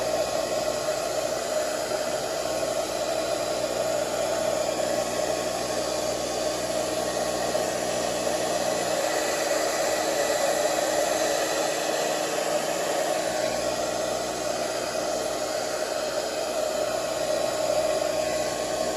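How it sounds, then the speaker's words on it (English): A hair dryer blow-drying a full beard, with the heat element cycled on and off: a steady, loud, close whooshing hum that holds constant throughout, with no talking. "So that's basically it for blow drying."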